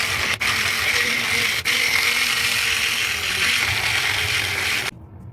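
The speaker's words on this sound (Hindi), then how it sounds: "मैं इसको मिक्सी के ब्लेंडर से इसको ब्लेंड" A mixer grinder's blender jar purees boiled tomatoes, a steady loud whirring grind that runs nearly continuously for about five seconds, with two brief dips, before cutting off.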